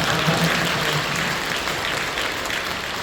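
A church congregation applauds steadily, dense clapping filling the room at an even level without pause.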